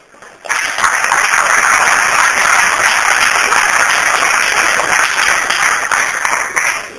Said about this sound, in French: Comme on peut applaudir encore une fois